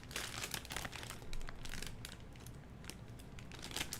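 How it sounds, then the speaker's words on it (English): Lego pieces rustle and crinkle inside plastic bags, quiet close-up crumpling with irregular sharp crackles throughout. "it is a good sound to hear it rustling around"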